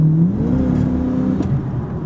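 A responsive pickup truck's engine revs up with a rising, steady drone from inside the cab, loud and continuous with no talking.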